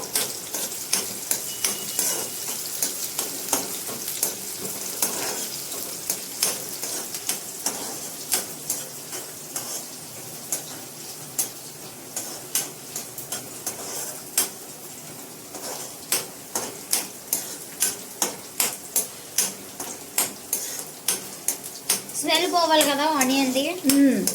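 Onions fry in hot oil for a cauliflower curry, a low sizzle under regular ladle taps and scrapes against the pan that grow sharper and more rhythmic toward the end, with a louder burst at the close.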